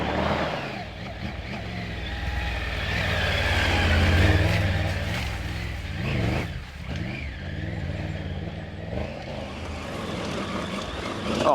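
A 2024 Triumph Tiger 900 Rally Pro motorcycle rides along a muddy off-road trail, its engine droning steadily with swells of throttle, accompanied by constant wind rumble and tire noise.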